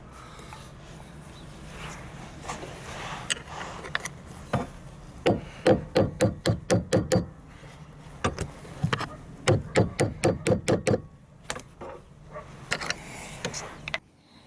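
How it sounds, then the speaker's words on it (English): A hammer drives an old screwdriver against the metal seat runner clips of a Fiat Panda 4x4, sharp close taps arriving in quick rhythmic bursts separated by short pauses. "get our hammer and old screwdriver in there now, and just slightly kink these back out again"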